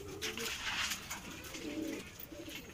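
Pigeons coo softly and repeatedly in a low, throaty rhythm, close by, with faint background noise throughout.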